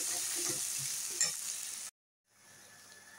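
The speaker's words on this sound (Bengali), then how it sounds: "এবার এটা ভালো করে মশলাটা কষিয়ে নিতে হবে।" Chilli powder, turmeric and salt sizzle in hot oil for a katla fish curry, a close, dense frying hiss with a few stirring scrapes that cuts off abruptly, then faint quiet.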